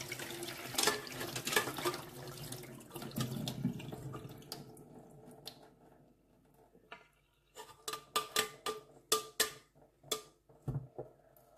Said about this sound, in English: That's cold water, and then we drain it out.